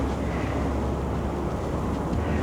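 Wind blows steadily on a rainy outdoor day by a pond with ducks, a constant broadband rush and buffeting against the microphone with no talk.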